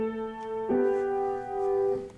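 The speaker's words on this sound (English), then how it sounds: "Too bad our piano isn't in better tune," A slightly out-of-tune piano plays a voice exchange in chords, one sustained chord changing to another with sympathetic ringing partials, heard alone at moderate volume.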